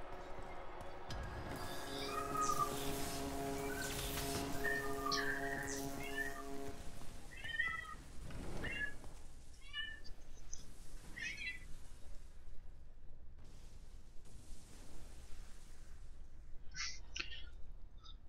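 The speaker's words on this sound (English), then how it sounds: "Quit fucking meowing." A cat meows repeatedly in the video game Fear 3, with a string of plaintive calls over a tonal game soundscape that fades into quieter, scattered meows and small clicks.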